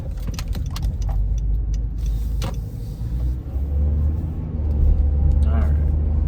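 Steady low road rumble fills the cabin of a moving car, with faint rattles and clicks on top and no talking.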